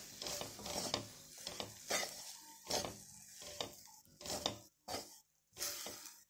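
A gram flour mixture is stirred by hand in a bowl, giving repeated soft scraping and thick mushy strokes in an uneven rhythm with brief pauses, close and fairly quiet.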